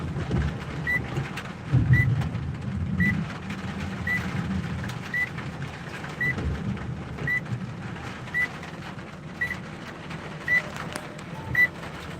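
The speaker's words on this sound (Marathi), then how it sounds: "लातूरला चांगला पाऊस चालू आहे" Steady heavy rain hisses in Latur with low rumbling underneath and a faint repeated chirp-like beep at regular intervals, no voices.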